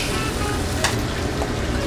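Roasted garlic cloves sizzle and fry in a hot wok as a steady crackling hiss, with a brief sharp clink partway through and no talking.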